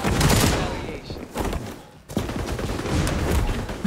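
AK rifle gunfire rattles in the shooter game XDefiant, rapid loud bursts with a short lull in the middle, while a voice talks over the shooting.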